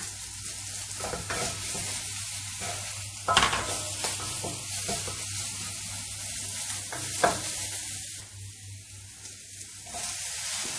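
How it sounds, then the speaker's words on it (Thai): Shrimp stir-frying in a pan with coriander root, garlic, pepper and shiitake mushrooms, a steady loud sizzle with stirring scrapes and a couple of sharper clatters, no talking. "ใส่รากผักชีกระเทียมพริกไทยลงไปผัดค่ะ แล้วก็ตามด้วยเห็ดหอมค่ะ"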